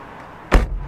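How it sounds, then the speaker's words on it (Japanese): A Honda S660 Modulo X car door shuts with one solid, close, weighty thud that rings briefly before fading into quiet. "うわ扉の音すごい。"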